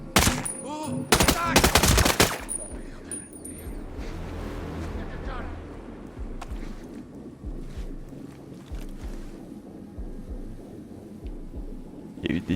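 Loud rapid bursts of gunfire crack out over the first two seconds of a tactical shooter video game, then fade into ambient noise with scattered faint shots and people talking.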